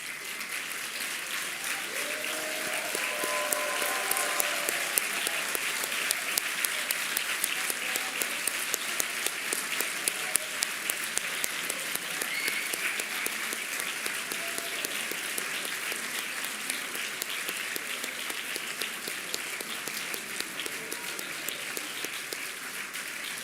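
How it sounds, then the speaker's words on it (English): Sustained applause from a seated crowd at a business school commencement ceremony as the Dean's List students stand, a steady even wash of clapping lasting throughout without talk. "Can the members of the Dean's List please stand up so that we can applaud you?"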